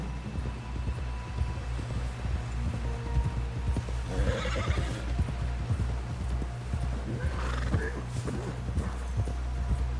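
A video game horse whinnies loudly over steady clip-clop hoofbeats, with a second neigh a few seconds later and a low rumbling background throughout.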